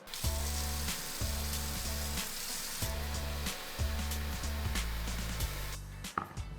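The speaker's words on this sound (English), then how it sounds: "I'm going to fill up a bowl of water." Running tap water pours into a bowl with a steady rushing hiss, over a low humming drone, close and continuous, briefly interrupted near the end.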